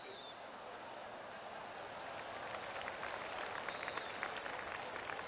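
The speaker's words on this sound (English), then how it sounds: "I was getting people in the back there clapping" A gallery crowd at a golf course claps steadily, the applause swelling slightly and carrying from a moderate distance with a few scattered birds and voices in the background.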